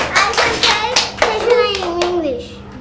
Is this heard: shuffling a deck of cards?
no